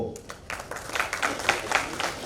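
An audience at a public lecture in Indore applauds with a dense, moderately loud patter of many hands clapping that builds slightly over a couple of seconds.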